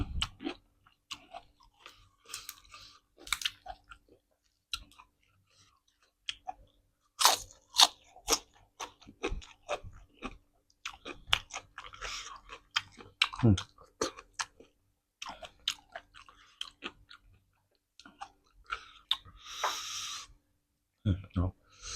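Crunchy squid seafood and pickled garlic being chewed up close: irregular bursts of crisp biting and crunching with brief pauses, mixed with some quiet speech and mouth sounds.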